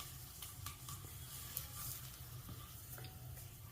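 Asafoetida and tamarind fry with spices in hot oil for chutney, giving a faint, steady sizzle with small pops and crackles.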